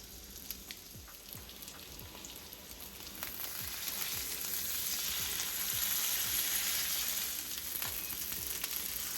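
Kerrygold butter melts into olive oil in a hot pan, a bright crackling sizzle that swells and grows steadier over several seconds, close and fairly loud, no voices.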